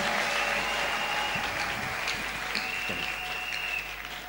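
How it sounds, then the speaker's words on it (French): A church congregation applauds in praise of Jesus Christ, a steady clapping that stays fairly even before easing off near the end, with a faint sustained tone running underneath. "Acclamons pour Jésus-Christ."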